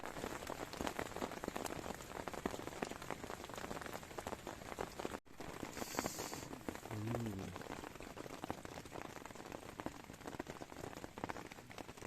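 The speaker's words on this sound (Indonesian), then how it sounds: "terkena badai dan dari semalam juga hujan terus" Steady rain falls during a storm on a mountain, a dense, even hiss of drops hitting surfaces that continues without pause, with a brief break midway.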